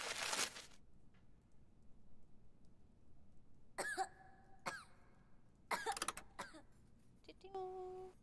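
Character in the video game Judge Dee coughing: a short cluster of harsh coughs, then a few more separated bursts, clear and close with quiet pauses between.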